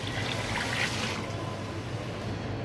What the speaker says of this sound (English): So I'll put here water 2700 ml